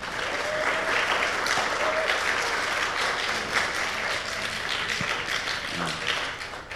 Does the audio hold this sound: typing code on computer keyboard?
no